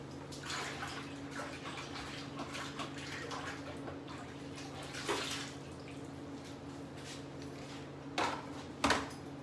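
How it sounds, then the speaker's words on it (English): Fingers rinsed under a running tap while mead is being made, a steady soft stream of water with a few brief splashy bursts near the end. "Let me rinse them off real quick."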